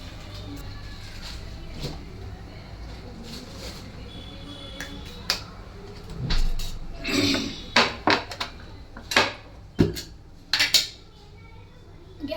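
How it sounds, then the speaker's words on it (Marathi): A kadhai (wok) set down on a gas stove gives several sharp metallic clanks and knocks close by in the latter half, over a quiet kitchen background. "गॅसवर कढई तापत ठेवली"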